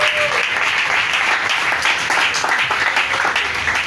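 A church congregation applauding, dense continuous clapping from many hands that stays loud and even throughout, with a few voices mixed into the crowd noise.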